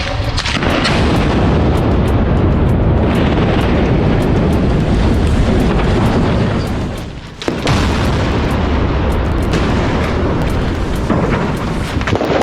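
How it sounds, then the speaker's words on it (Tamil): Explosive charges bring down a seventy-year-old bridge: a loud, continuous roar of blasts and rumble fills the whole stretch, broken by one brief dip before it surges again. "எழுபது வருஷம் பழமையான பிரிட்ஜ் ஒண்ணுக்கு இங்க வெடி வச்சு ரிட்டையர்மெண்ட் கொடுத்திருக்காங்க"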